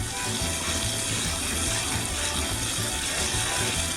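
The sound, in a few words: rinsing drained pasta with tap water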